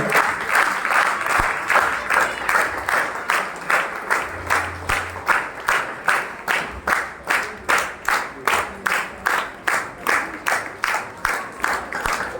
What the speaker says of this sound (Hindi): तालियां आपकी बजती रहना चाहिए